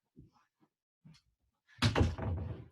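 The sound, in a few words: door being shut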